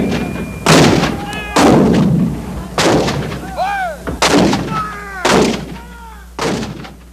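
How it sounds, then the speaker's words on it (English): Over a hundred Civil War field artillery pieces open fire in a cannonade, heavy booming blasts landing roughly every 1.5 seconds, loud and rolling, with whistling tones and echoes between shots and no talking. "over 130 pieces of field artillery open up"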